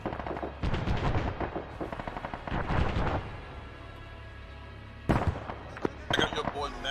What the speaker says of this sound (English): Taking accurate fire.